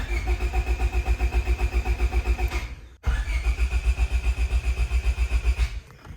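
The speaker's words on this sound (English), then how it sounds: "I'm going to jump the starter through my multimeter to do a current test." A 1998 Honda Civic starter motor cranks, wired through a multimeter for a current test: two loud bursts of rapid, rhythmic cranking pulses, separated by a brief stop at about three seconds, with no voices.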